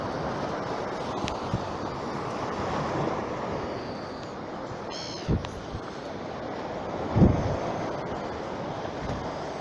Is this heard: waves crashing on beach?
yes